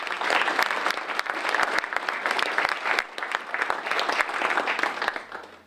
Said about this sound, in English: If you could please join me in a round of applause.